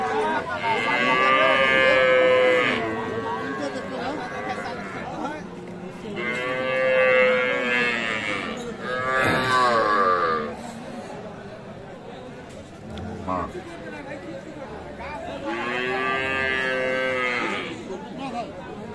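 Cattle, including a Friesian cow, moo repeatedly in long, loud calls, several in a row, with faint chatter from people in the background at a cattle market in Aftabganj, Dinajpur.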